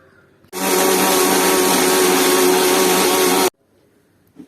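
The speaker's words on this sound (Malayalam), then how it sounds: "ഇനി ഇത് ഒഴിച്ചിട്ട് ഒന്നും കൂടി നമുക്ക് അടിച്ചെടുക്കാം കേട്ടോ" Electric blender whirring while blending milk and juice, starting abruptly, running at a steady loud buzzing pitch for about three seconds, then cutting off cleanly into near silence.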